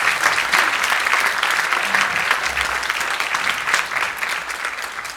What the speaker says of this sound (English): Let's give a big round of applause to Jack Benjamin.